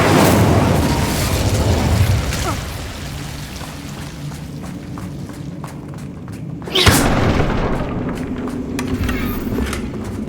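A Bombarda spell explosion in Hogwarts Legacy, a sudden loud blast partway through that rolls into a rumbling, crackling decay over dense game sounds and other spell effects.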